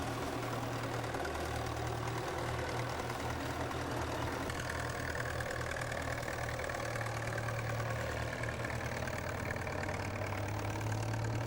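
A Field Marshall vintage tractor engine runs steadily, a loud continuous low chugging drone with a rough mechanical texture and no voices.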